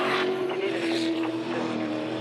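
V8 Supercars at the 2012 Hamilton 400 street race roar as they accelerate, a loud sustained engine drone with a steady pitched tone and layered rasp from several cars at once.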